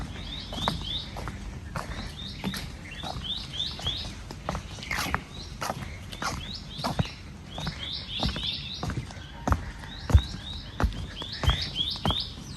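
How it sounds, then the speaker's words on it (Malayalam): Birds chirp repeatedly in short bright bursts at an island resort in Fiji, fairly close and continuing throughout, with soft footsteps and rustling underneath. "കിളികളുടെ കളകളാരൊക്കെ നിങ്ങൾ കേൾക്കുന്നുണ്ടോ?"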